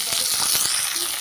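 Chopped tomato fries in a pan after going in over softened onion, giving a short burst of close, steady sizzling with a few soft stirring scrapes.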